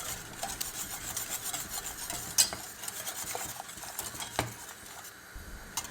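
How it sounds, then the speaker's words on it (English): Cacao and sugar mixture being whisked vigorously into water in a pot for Turkish ice cream, a close, busy scraping and rasping of the whisk against the pan with a few sharper clinks, no talk. "gradually add the cacao and sugar mixture and whisk vigorously"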